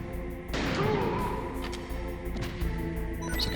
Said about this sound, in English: Surprised he didn't hear that gunshot.